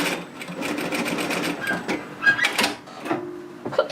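A sewing machine stitching down folded bias tape binding at normal stitch length, a close rapid mechanical whirr in short bursts that stops and restarts, with small clicks and thread-handling noises near the end.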